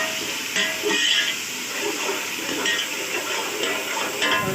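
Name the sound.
sautéing bay leaf and white cumin in oil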